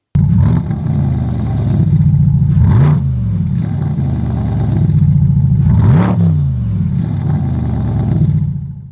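A Liberty Walk Corvette C8 with black chrome tailpipes revs up in three sharp, loud blips over a deep, rumbling idle, heard close and alone.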